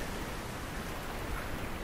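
Rain falls inside an abandoned building, a steady, faint broadband hiss of drops spread evenly over a couple of seconds with no talking.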